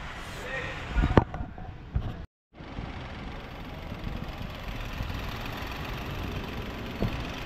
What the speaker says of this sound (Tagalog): umaandar na at medyo maingay lang ng konti ang makina